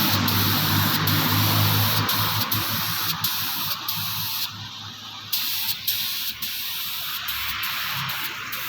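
A spray gun applies 2K paint coating to a motorcycle fuel tank in a steady, loud, continuous hiss that carries on with only brief pauses and small dips in level.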